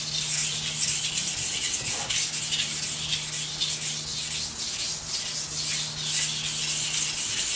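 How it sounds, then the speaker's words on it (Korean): A kitchen knife is ground on a whetstone with rhythmic back-and-forth strokes, a close, steady gritty scraping repeating about twice per second. "이제는 연마 숫돌을 이용해서 거칠어진 면을 골고루 튼튼하게 연마를 시켜주는"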